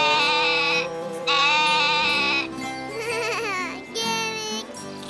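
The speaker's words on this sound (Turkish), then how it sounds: "Ayşecik, o geyik değil, keçi." A cartoon goat bleats repeatedly in loud, wavering cries, several long bleats in quick succession, close and clear.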